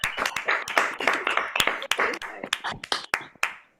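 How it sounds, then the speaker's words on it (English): A few people clap close to their microphones for the MCs at an online conference opening ceremony, sharp, uneven hand claps in a brief ragged burst that thins out and stops after about four seconds. "I would like to give them a round of applause."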